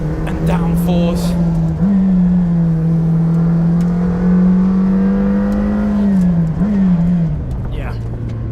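A McLaren Senna 800 hp sports car engine holds a loud, steady droning note heard from close by, rising slightly in pitch twice before easing off near the end.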